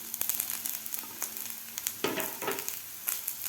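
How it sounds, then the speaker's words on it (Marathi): Onion with garlic, ginger, green chillies and coriander sizzles and fries in a pressure cooker pan, giving a steady close crackle broken by a few stirring scrapes. "आता हे सुद्धा आपल्याला 1 मिनिटभर भाजून घ्यायचं आहे कांद्याबरोबर"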